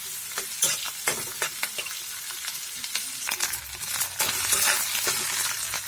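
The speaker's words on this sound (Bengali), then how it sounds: "কড়াই বসিয়ে দিয়ে দিলাম তেল। এখন দিয়ে দিলাম মাছের ডিম। তো ভালো করে মেখে ভালো করে মিক্স করে নেব।" Fish roe frying in hot oil in a wok for a fish egg bhurji, a steady close sizzle broken by repeated scraping strokes of a spatula as it is mixed.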